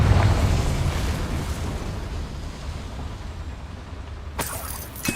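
A Confringo fire spell blasts in Hogwarts Legacy as a deep, rumbling explosion that fades gradually, with a second sharp burst near the end.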